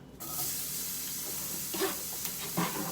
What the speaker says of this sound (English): Let's put these onions in there.